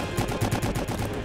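Rapid video game gunfire from a military shootout, a dense string of close, loud shots in quick bursts filling the whole moment with no talking.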